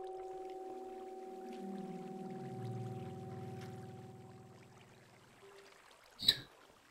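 A soft, steady pouring rush of flowing water in Minecraft, faint and continuous, tapering off before a short sharp pickup sound near the end.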